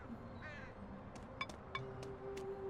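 A bird caws in the game Elroy and the Aliens, a few short, harsh calls spaced through the moment over a quiet ambient bed, faint and fairly distant.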